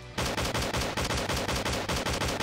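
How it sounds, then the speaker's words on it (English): Enemy firing rapidly in the Slendytubbies 3 survival video game, a loud, evenly spaced burst of machine-gun shots repeating about every quarter second, with no talking. "Oh, he can shoot that really fast"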